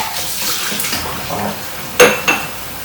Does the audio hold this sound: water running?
yes